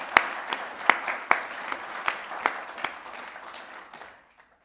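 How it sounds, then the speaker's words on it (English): Audience applause at an installation ceremony for a professor, a room of clapping with sharp individual claps standing out, sustained for about four seconds before tapering off into silence. "So I want to give them a round of applause if I can."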